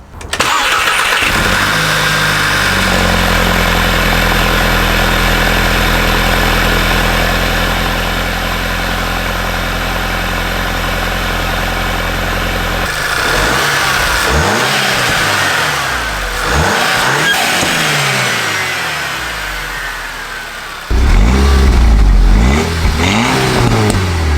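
A Volkswagen GTI engine with an aftermarket intake cranks and starts, settles into a loud idle, then revs up and down repeatedly in several strong surges, close by.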